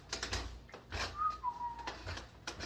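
A short, faint whistle with a steady tone sounds amid soft rustling and knocking noises.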